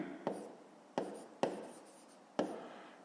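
Pen writing by hand on paper while working a fifth-grade maths exercise, with soft continuous scratching broken by four sharp taps of the pen at irregular intervals, close and quiet.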